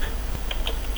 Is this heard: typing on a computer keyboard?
yes